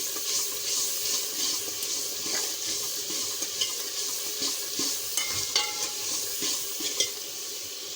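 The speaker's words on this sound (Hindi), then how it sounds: "इसको अच्छी तरह से भूनते जाएंगे, हिलाते जाएंगे चम्मच" Masala for an aloo moongre dish, with garam masala added, roasting in a pan while a spoon stirs it steadily, a soft continuous sizzle broken by light scraping clicks.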